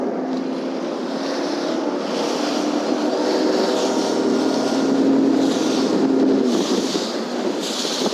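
A Nitro Z20 or Z21 XL bass boat accelerates onto plane, its outboard engine roaring steadily and strongly close by, building slightly in pitch before easing off near the end.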